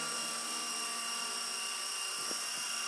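A Solo Pro 328 RC helicopter's motor runs at full throttle indoors, a steady, high-pitched whine with a constant tone that stays loud and unbroken, with a couple of faint knocks near the end.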